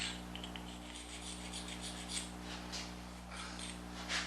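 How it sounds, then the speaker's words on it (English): A sharpening stone rubs rasp marks smooth on a carved wooden hair sculpture in a quiet, faint, continuous scrubbing with light repeated strokes and a low steady background hum. "I take the rasp marks out with the stone."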